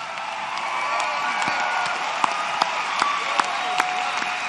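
An evangelical crowd applauds and cheers at a Donald Trump speech, steady loud clapping filling the hall with scattered whoops and sharp claps standing out.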